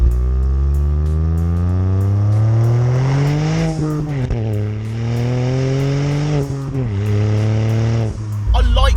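A modified Mk8 Ford Fiesta ST's engine revs loudly and continuously, shifting through gears, its exhaust note rising and dropping with a flat, throaty three-cylinder character and brief crackles at the end.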